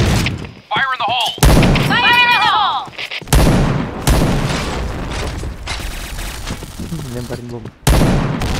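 Explosions and gunfire in the zombie shooter Zombie Slayer, with several sharp booms and bursts mixed with chirping effects and voices talking in between.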